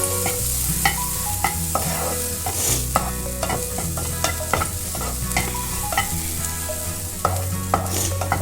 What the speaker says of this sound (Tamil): நான் நார்மல் எண்ணெயிலேயே நான் வந்து தாளிச்சிடுறேன்